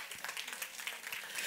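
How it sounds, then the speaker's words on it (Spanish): A church congregation applauds steadily, dense clapping filling a large room, with a few voices mixed in. "Den un aplauso fuerte al Señor."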